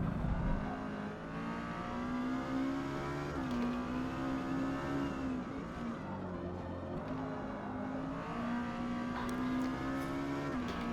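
An Acura Integra's engine in Forza Motorsport hums steadily with a harmonic drone, its pitch rising and dipping several times as the throttle eases off and comes back on, with no voices over it.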